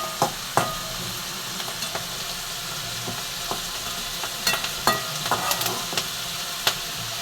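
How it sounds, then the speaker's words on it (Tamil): Small onions sautéing in a pan for bitter gourd poriyal: a steady soft sizzle broken by intermittent scraping strokes from stirring, close and fairly quiet, with no talking. "இப்போ நல்லா வதங்கட்டும்."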